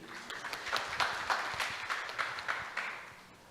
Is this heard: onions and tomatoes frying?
no